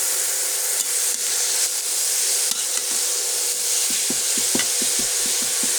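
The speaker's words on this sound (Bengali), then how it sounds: "সুন্দর করে আমরা ভাজি করে নেই" Beetroot fries in oil with cardamom pods, giving a steady bright sizzle with a run of quick scraping stirs toward the end, close and fairly loud, with no voices.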